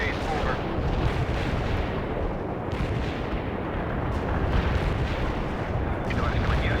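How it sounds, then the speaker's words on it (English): Artillery barrage in the World in Conflict game, a dense continuous rumble of booming explosions layered over one another with a radio-style voice speaking in the background. "Artillery strike. Commencing the barrage."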